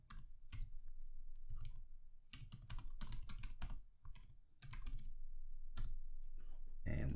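Close, crisp computer-keyboard typing as an answer is entered, clusters of quick keystrokes separated by short pauses, with no talking.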